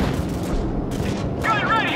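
Gunship cannon fire rumbles in the Call of Duty 4: Modern Warfare video game, a dense continuous barrage of booms. Voices talk over it.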